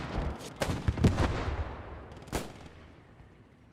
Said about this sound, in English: Grenadier blast goes out.